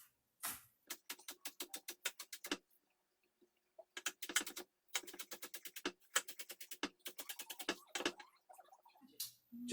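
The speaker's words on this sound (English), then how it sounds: "so I'm going to dice these up small" A knife dices scallions on a cutting board in quick, crisp bursts of taps, pausing between runs of rapid chops, close and fairly quiet with no talking.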